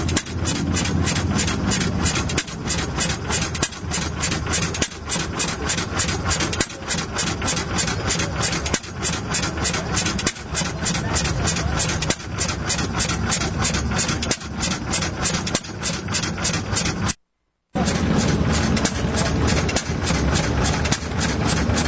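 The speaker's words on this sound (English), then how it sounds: "You're looking at a John Deere hit and miss engine right there." A 1927 John Deere hit-and-miss engine runs at a Florida Bike Week motorcycle rally, with a steady stream of close, loud mechanical beats and heavier periodic firing thumps at regular intervals.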